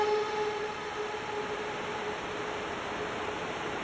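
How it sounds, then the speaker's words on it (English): Bit crusher placed in the delay and reverb feedback loop of a Meris LVX pedal, producing a steady wall of hissing, crunchy digital noise with faint sustained tones running through it, no voices. "we can even add the bit crusher. Instead of it being on the dry, let's put it just in the feedback loop of the delay / reverb."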